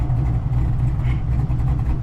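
A cammed car engine at a lumpy, chopping idle, heard up close as a loud, steady low rumble with an uneven pulse.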